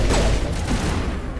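Enemy gunfire in a shooter video game, a dense burst of shots and booms close up, continuing steadily through the moment without speech.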